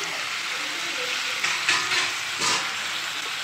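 Tomatoes fry in a spice paste in a pan, giving a steady close sizzling hiss with a few brief stirring surges and no talk.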